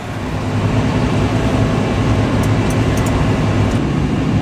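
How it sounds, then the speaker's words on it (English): Steady, loud low-frequency engine drone from a farm tractor used for planting, spraying and spreading fields, running continuously with an even rumble and no speech. "get in tractor and get to it."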